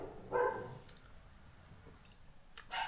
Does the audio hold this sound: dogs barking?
yes